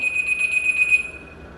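A steady, high electronic tone with faint pulsing, sounding for about a second before fading out.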